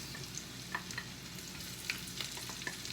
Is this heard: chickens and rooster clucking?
no